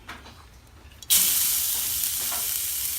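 Grated coconut stirred in hot coconut oil in a pan, a sudden loud sizzle that bursts in after a quiet start and holds as a steady bright hiss, with faint scraping of stirring.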